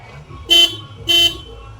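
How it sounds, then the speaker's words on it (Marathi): A vehicle horn honks twice, loud and close, two short bright blasts about half a second apart over a quiet background. "मित्रांनो आपलं हॉर्न पण चालू झालं एकदा आपण बघू ऐकून"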